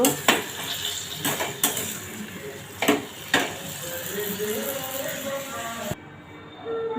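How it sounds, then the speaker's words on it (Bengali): A spoon stirs and scrapes a yardlong bean curry with ghee in a pan, producing several sharp clinks and knocks over a soft background sizzle, with a voice heard at times. "এটাকে একটু নাড়াচাড়া করে নামিয়ে নেব"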